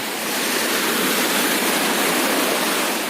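Grill grates rinsed in salty sea water at the shore, a steady loud wash of rushing, splashing water filling the whole moment with no voices.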